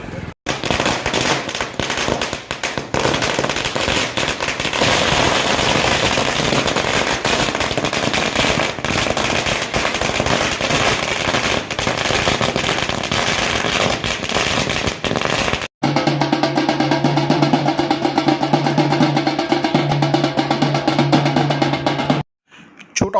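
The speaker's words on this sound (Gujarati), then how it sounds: "ફટાકડા ફોડી વિજયી ઉત્સવ મનાવ્યો છે" Firecrackers burst in a long rapid chain at a BJP victory celebration in Chotaudepur, loud dense crackling for about fifteen seconds, then a different section with steady tones and noise.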